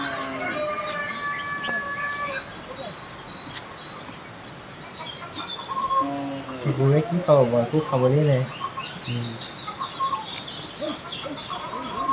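Birds and chickens call and cluck in a flooded village, with a burst of repeated clucking in the middle, while someone talks over much of it.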